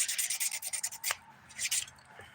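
A 180 grit nail file rubbed back and forth under the fingernails, making a close, soft rhythmic scratching in quick strokes that pauses briefly midway before resuming.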